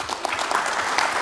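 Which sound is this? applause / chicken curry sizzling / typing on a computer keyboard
applause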